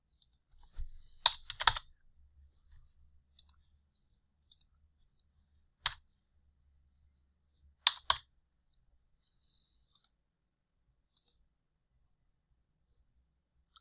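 Data being entered into scaffolding rental software on a computer: a short burst of keyboard typing followed by a few sparse, crisp mouse clicks spaced seconds apart in an otherwise silent room.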